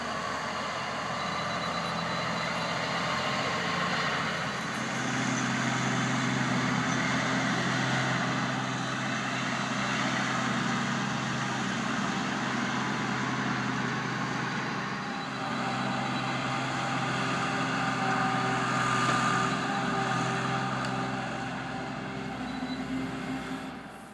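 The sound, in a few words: excavator engine while finishing grade of house excavation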